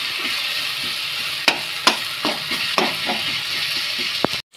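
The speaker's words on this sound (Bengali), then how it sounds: "কষতে শুরু করে দিয়েছি। যত বেশি কষবো তত স্বাদ হবে" Meat sizzling and frying in a pan with tomato, capsicum and turmeric, a steady loud hiss broken by several sharp stirring scrapes and clacks, with no talk.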